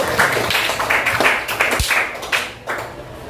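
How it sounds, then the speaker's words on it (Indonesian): A small group of junior high school students in Jakarta claps in a scattered, uneven burst of applause for a presenting group, fairly close and steady for a few seconds. "Sekali lagi tepuk tangan buat kelompok 1."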